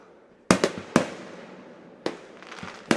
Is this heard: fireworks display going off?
yes